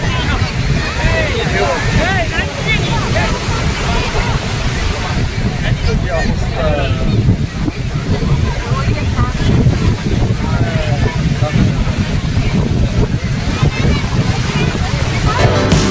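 Ocean surf crashes and rolls continuously at Marina Beach, Chennai, loud and close, with heavy wind buffeting the microphone and voices talking underneath.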